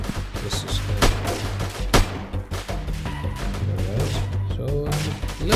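Bursts of gunfire from a sniper squad in the guerrilla warfare video game Freeman, sharp repeated shots spaced irregularly over a steady low rumble of battle ambience, fairly loud throughout.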